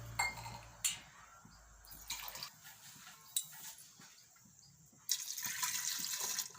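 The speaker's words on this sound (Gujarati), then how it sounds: "બે ગ્લાસ આપણે આમાં પાણી નાખશું" Two glasses of water are poured into a pressure cooker holding drumstick pieces for boiling. The pour comes as a splashing, rushing stream in bursts, ending in a steadier louder flow near the end, with no speech.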